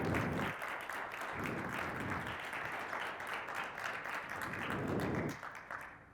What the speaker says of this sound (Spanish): se adelantaron con el aplauso